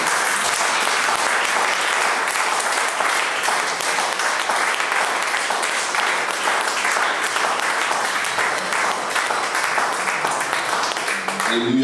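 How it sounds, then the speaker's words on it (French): Church congregation applauding for the pastor, a steady dense roar of clapping from many hands that holds for the whole stretch, with faint voices mixed in. "On peut acclamer le Seigneur pour le pasteur."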